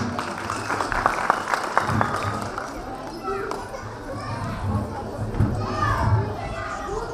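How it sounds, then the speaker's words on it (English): An audience applauds children at a preschool annual day function, steady clapping mixed with crowd murmur and children's voices, with an adult talking over it. "Big applause for all kids."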